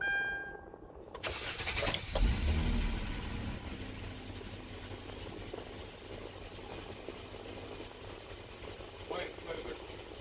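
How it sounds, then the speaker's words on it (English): A 2009 Hyundai Sonata started with the key: a brief cranking burst, then the engine catches and settles into a steady low idle with some rattle, picked up close by. "use the correct key to try and start your car"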